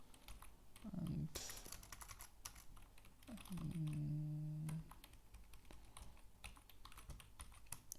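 Computer keyboard typing while HTML code is entered, soft scattered key clicks at close range with a couple of brief tonal hums overlaid.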